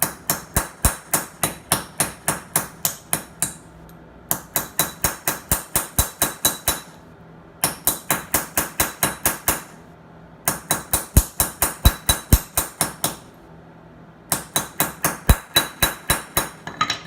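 A hammer pounds a rust-seized socket off a bolt during a Honda Accord manual transmission removal. Five volleys of about ten rapid, sharp metallic strikes each are separated by short pauses, close and clear.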